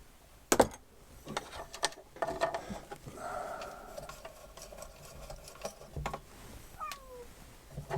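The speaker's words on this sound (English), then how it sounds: "Meow. It's a cat." A couple of faint meows from a cat off to the side, among scattered clicks and soft handling noises from work on a GE 514 clock chassis, with no talking.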